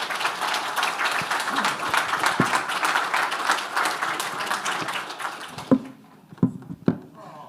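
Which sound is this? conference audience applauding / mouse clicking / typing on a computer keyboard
conference audience applauding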